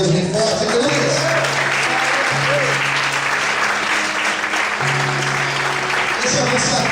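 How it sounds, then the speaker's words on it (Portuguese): A church congregation applauding loudly and continuously during a Portuguese-language sermon, a dense, sustained wash of clapping from many hands, with a sustained musical tone underneath. "Se você glorifica e aplauda o nome de Deus bem forte"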